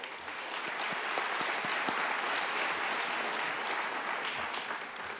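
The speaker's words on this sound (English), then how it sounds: "Let's give them a round of applause." Sustained audience applause at a high school senior awards ceremony honoring the counseling staff, a dense, steady wash of many hands clapping that holds at an even level throughout with no voices over it.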